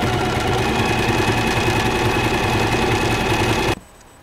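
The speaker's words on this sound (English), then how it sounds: "we're just going to hem the bottom here. Just fold it up and sew it across." A sewing machine hems the bottom of a doll's jean jacket, giving a loud, steady, rapid mechanical chatter up close that stops suddenly near the end, leaving quiet room tone.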